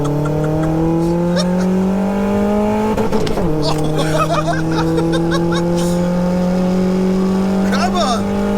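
A turbocharged 1-litre Nissan Micra making 114 brake horsepower accelerates hard. The engine note climbs steadily, drops at a quick gear change, then rises again, loud and close, with voices shouting over it.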